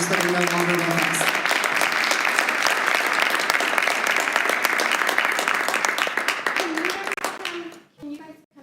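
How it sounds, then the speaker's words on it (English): Room applause at a joint city council and school district work session honoring past school board members, loud dense clapping throughout that tapers off near the end, with voices murmuring underneath. "we'd like to give you a round of applause."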